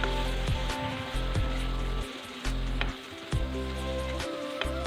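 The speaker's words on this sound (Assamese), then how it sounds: "এতিয়া পনীৰখিনি ভালদৰে ভাজি ল'ব লাগিব" Paneer frying in a pan, a continuous close sizzle punctuated by scraping stirs and small clicks of the spatula, with no talk.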